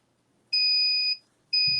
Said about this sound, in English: So it starts to alarm at 3 seconds to tell you that it's close.